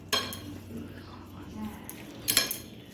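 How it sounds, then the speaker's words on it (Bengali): Fish being mixed by hand with mustard oil and spices in a bowl, giving soft wet squelching and a few sharp clinks of utensil against dish, close and moderately loud. "এবারে আমি সবগুলি একসঙ্গে মাখিয়ে নেব"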